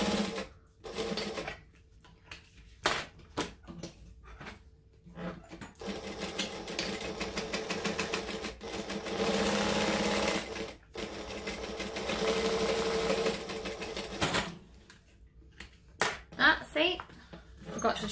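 A sewing machine runs a chain stitch while sewing a fabric clutch, a steady close mechanical whirring rattle that starts and stops in runs, with someone talking during the pauses.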